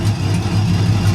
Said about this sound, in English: Now the exhaust cutout is open, as you can hear.